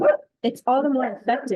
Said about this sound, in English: apologies for my dogs